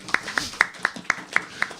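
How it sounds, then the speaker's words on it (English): Clapping at a Bhagavad Gita lecture, an evenly spaced run of sharp claps, fairly faint and thin, as if from only a few hands, lasting under two seconds. "Round of applause for the women, please."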